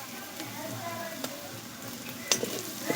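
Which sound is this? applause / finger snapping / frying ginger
frying ginger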